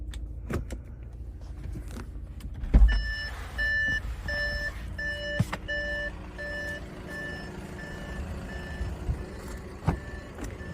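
Parking sensors on an Audi A6 beeping in a steady repeating pattern of short tones, with faint clicks and cabin noise in between and no talk.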